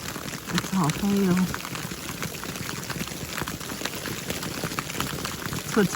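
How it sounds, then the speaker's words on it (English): Hail pattering steadily on a tent in the Sierra, a dense, fairly soft drumming throughout, with a brief voice-like sound near the start. "That's what's been hitting my tent."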